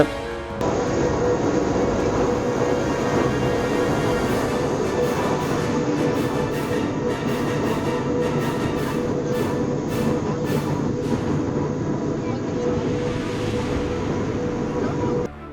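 A steady, heavy mechanical rumble of a mountain rack railway train runs throughout, loud and continuous, with faint clicking bursts toward the top end.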